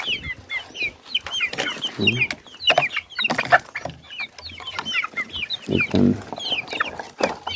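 A flock of chickens clucks and squawks busily all around, overlapping calls close by, continuous and lively without pause.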